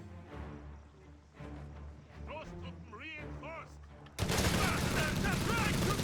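Assault rifle gunfire in a Company of Heroes 3 match between Wehrmacht and US forces: a commentator talks over faint battle noise, then a loud, dense burst of rapid firing takes over at the end.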